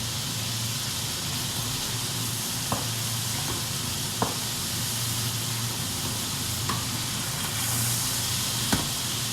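Piment d'Espelette sizzling in a hot wok for beef with vegetables, a steady bright frying hiss throughout with a few sharp clicks of a utensil scraping the pan, no talking.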